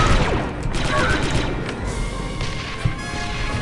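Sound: gunfire in video game Star Wars Republic Commando

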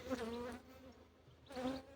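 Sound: honey bees buzzing at open hive

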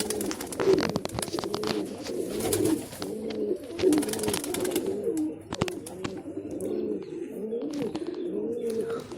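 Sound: pigeons cooing and flying

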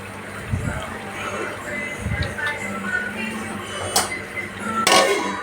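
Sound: tossing crab curry in pot by hand, lid clinking

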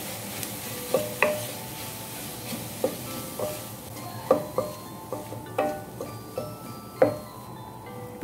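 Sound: chilli powder and turmeric frying in a pan

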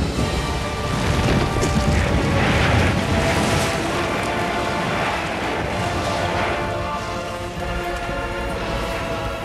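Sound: Atlantis collapsing and sinking in video game God of War: Ghost of Sparta

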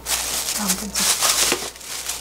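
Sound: plastic sheet being folded around pork cutlet meat

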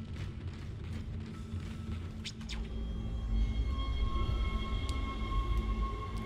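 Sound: tram moving in the Dead Space video game

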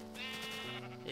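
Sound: sheep bleating in the video game Minecraft

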